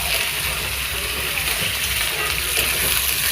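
Chicken pieces frying in hot oil in a home kitchen, a steady dense sizzle and crackle running throughout at close range.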